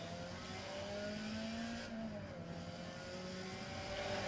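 A driving video game plays through an Optoma HD152X projector setup, its game car engine holding a steady, moderate drone with a slight pitch rise partway through, continuous and without speech.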